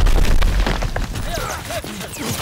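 Grenade blast in the Call of Duty: WWII multiplayer shooter, a loud booming burst at the start that rolls off into a rumbling tail, with scattered game effects behind it.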